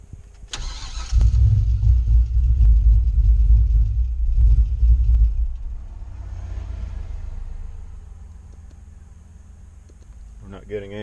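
A red pickup truck's engine cranks and catches after the key is cycled, a loud low starter rumble for several seconds that then settles into a quieter steady idle, with a short clatter near the end.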